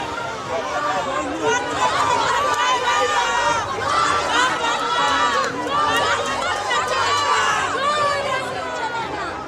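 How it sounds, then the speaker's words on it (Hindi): A dense crowd of TMC supporters blocks a road during Bengal's second-phase voting, a loud continuous roar of overlapping shouting and chanting voices close by. "टीएमसी समर्थकों की भीड़ ने नारेबाजी करते हुए पूरी सड़क को जाम कर दिया"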